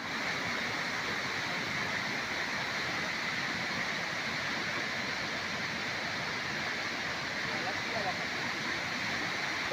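Surging floodwater in heavy monsoon rain in the Konkan region makes a steady, dense roar that holds at an even level for the whole stretch, with no voices over it.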